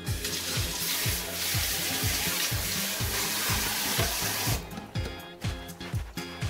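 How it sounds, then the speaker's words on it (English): Pumpkin seeds are rinsed under a running kitchen tap, giving a steady close rush of water with a rhythmic low knocking beneath it that thins out toward the end. "Rinse your seeds off after cleaning them as best as you can."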